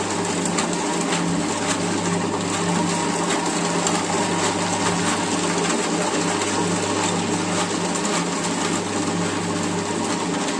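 A black pepper separating machine runs continuously, a steady mechanical whir over a low, constant hum with no breaks or talk.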